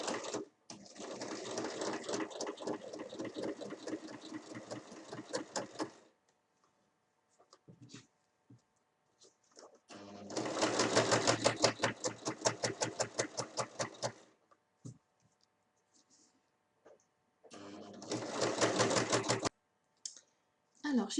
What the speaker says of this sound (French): je vais venir faire une surpiqûre tout du long à 1 mm